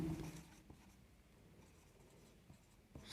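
Writing on a board gives faint, scratchy strokes with a few soft taps, quiet and close, and no one speaks.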